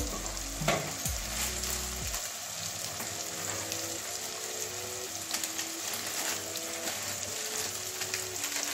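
Tomato masala sizzles steadily in a pan as it is sautéed for an egg, cabbage and carrot curry, with a continuous crackling fry and occasional stirring scrapes and clinks, close and alone.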